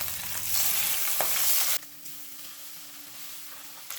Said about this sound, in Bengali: বাকি মাছগুলো 2 থেকে 3 মিনিট মিডিয়াম টু হাই ফ্লেমে ভেজে নেব।